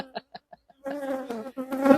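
Honeybees buzz around an opened beehive with the brood nest exposed; a few short, close buzzes pass first, then a denser, louder humming swells toward the end.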